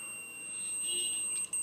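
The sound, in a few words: digital multimeter buzzer beeping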